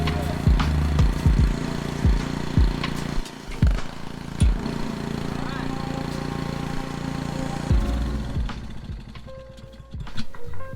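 Honda GC160 engine swapped onto a Troy-Bilt Horse tiller, with its original carburetor, is pull-started with the choke on, sputtering through a few rhythmic cranking pulses before catching and settling into a steady close running drone.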